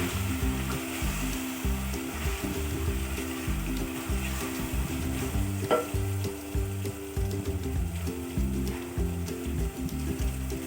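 Biryani of rice and mutton being stirred in a pot over heat, a steady close sizzle with continuous scraping and stirring movements and no talking.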